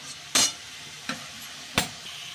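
Pumpkin greens with chili powder and turmeric being stirred in a pan, three distinct scraping strokes of a spoon against the pan over a faint background hiss, close and fairly loud.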